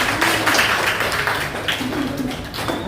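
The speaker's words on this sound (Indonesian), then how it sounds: "Beri tepuk tangan untuk kita semua." Classroom applause from students during a fiqh lesson on zakat: a brief burst of clapping, fairly close and moderately loud, with murmured voices underneath.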